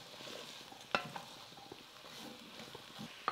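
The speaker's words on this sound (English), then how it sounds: "Stir them with the onions and the harissa." Carrots stirred with onions and harissa in a pan give a soft sizzle, with a few sharp utensil scrapes and clinks against the pan, close and fairly quiet.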